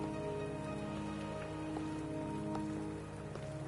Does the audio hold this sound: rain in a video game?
yes